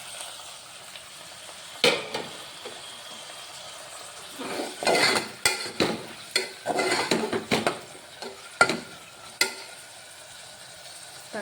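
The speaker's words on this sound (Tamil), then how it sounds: "இப்போது தக்காளி நல்லா வதங்கிடுச்சு" Tomatoes sauté in a pan for a rajma kurma while a spoon scrapes and clinks against the metal in uneven bursts over a quiet, low sizzle.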